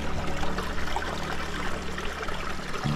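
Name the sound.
stepping into stream water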